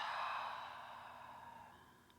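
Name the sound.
slow deep breathing during prenatal yoga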